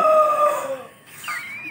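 A voice imitates a rooster crowing in a poultry shed, a short rising and falling call, loud and close.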